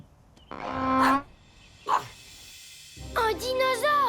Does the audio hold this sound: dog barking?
yes